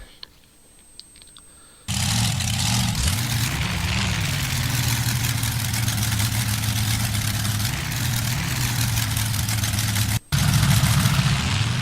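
Monster truck engines in the Rigs of Rods video game, including the Bigfoot truck, start up after a quiet moment and hold a loud, steady low rumble with slight revving swells, cutting out briefly near the end before resuming.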